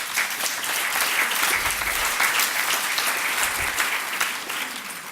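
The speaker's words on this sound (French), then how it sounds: "je propose quand même que vous les applaudissiez" Sustained audience applause at the closing of an UNAFAM event, honouring absent award winners: steady, dense clapping from a full room, loud and continuous throughout with no voices over it.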